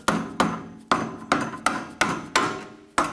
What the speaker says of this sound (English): Tap the bolt in.